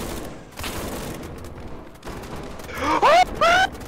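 Gunfire rattles in the SCP 5K video game, starting as muffled distant shots and closing with a couple of louder bursts, while players talk over it.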